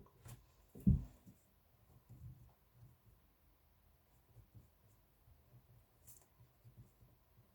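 A pen scratching across paper while material properties are written out, soft irregular strokes with a louder tap near the start, close and quiet, with no talking.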